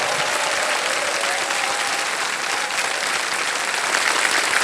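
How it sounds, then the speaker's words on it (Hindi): Studio audience applause on a Hindi television quiz show, a dense, steady wash of many hands clapping throughout, loud and continuous with no talk over it. "तालियां बज जाए इनके लिए"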